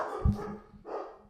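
Dogs barking indoors, a sharp low bark near the start followed by a softer second bark a moment later, fairly close.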